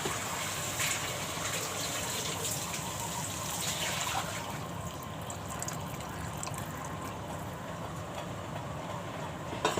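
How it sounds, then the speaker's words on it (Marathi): Water poured into a pot of spiced sprouted moth beans and potatoes, a continuous close gush and trickle that stays fairly even and soft throughout. "दोन वाटी पाणी घातलं"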